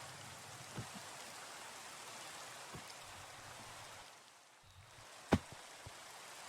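Steady hiss of rain falling in the Minecraft modpack FTB Skies, a soft constant wash with a few faint clicks and one sharp tap near the end.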